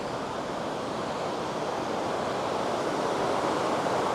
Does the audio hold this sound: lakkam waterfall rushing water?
yes